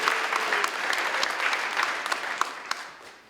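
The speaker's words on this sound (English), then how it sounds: "a massive round of applause for all those finalists and the work they did" Warm audience applause for finalists at a civic and community awards ceremony rolls on steadily with crisp individual claps, then gradually thins and fades out; no one speaks over it.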